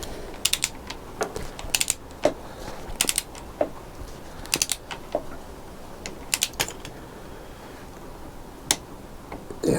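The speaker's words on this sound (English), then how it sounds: "the nut is 17mm and the torque wrench setting is 15 foot-pounds" A torque wrench tightening a 17mm nut on a Kawasaki GTR engine: sharp, irregular clicks and ticks spaced through the stretch, close by and moderately loud with quiet gaps between.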